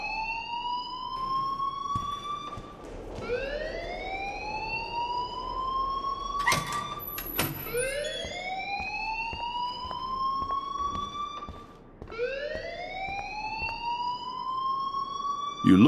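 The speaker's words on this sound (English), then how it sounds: "please turn off that alarm since that's your job." A wailing school fire alarm from the game Life is Strange, rising sweeps repeating every few seconds, loud and continuous with brief breaks, sounding alone.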